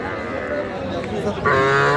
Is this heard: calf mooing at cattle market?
yes